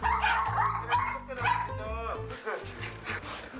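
Several dogs bark and yip loudly and excitedly at a visitor who has arrived at their home, in near continuous bursts close to the listener.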